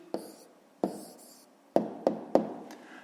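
Pen or marker strokes writing an answer by hand during a maths exercise: five sharp taps and scratches, the first two with brief scratchy trails, then three quick ones close together, near and fairly quiet.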